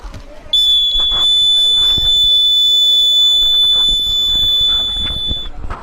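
A water tank overflow alarm at a school science expo gives off a continuous high-pitched electronic beep that starts abruptly and holds steady for several seconds. Chatter and crowd noise continue underneath.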